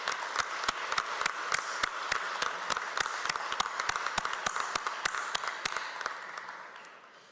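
An audience at a talk on electoral reform applauds steadily, with sharp, distinct claps standing out above the crowd before fading away.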